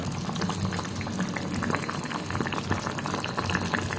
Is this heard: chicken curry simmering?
yes